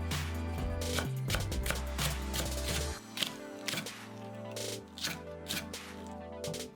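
A knife chops green onion into 3 cm pieces on a cutting board as a garnish for a spicy oyster radish salad, giving a quick run of sharp, close taps in an uneven rhythm.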